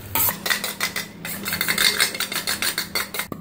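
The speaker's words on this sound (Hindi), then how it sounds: "अब ये इसके अंदर मैं क्रीम डालने लगाऊंगा।" Cream is added to a mutton karahi in a metal pan, heard as a rapid series of close scraping and stirring strokes of a utensil against the pan, with no talk.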